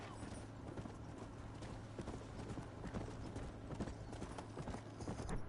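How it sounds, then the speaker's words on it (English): Horse hooves clip-clopping in the Red Dead video game, a steady rhythmic trot of repeated hoofbeats, faint and continuous across the whole stretch. "Where did my horse run off to?"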